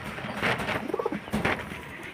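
Domestic pigeons for sale at a Beldanga market give close, clear coos in a short burst of rhythmic pulses, over a low ambient murmur.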